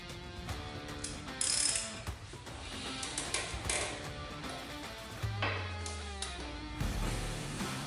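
A 14 mm wrench works on a motorcycle transmission bolt, a dense, continuous run of close metallic ratcheting and clicking, with several brief, brighter scraping bursts along the way.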